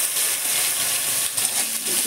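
Potato, eggplant, green chilli, bay leaf and five-spice frying in hot oil in a home kitchen, giving a steady close sizzle and hiss with a few faint stirring sounds.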